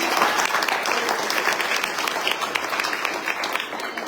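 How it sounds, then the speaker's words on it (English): A crowd of listeners at a peace gathering claps steadily together, a dense, sustained wash of applause that holds at an even level for about four seconds without pause. "Let's clap for their work."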